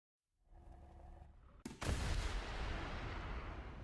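A TOW missile launches from a Bradley fighting vehicle in War Thunder: low engine hum, then a sharp, loud launch blast followed by a sustained roaring rush.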